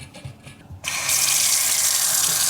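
Water from a kitchen faucet's pull-down sprayer attachment bursts on after a quiet start and then hisses loudly and steadily in a continuous close-up spray until the end.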